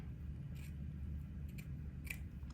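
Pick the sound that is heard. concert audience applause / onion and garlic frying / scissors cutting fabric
scissors cutting fabric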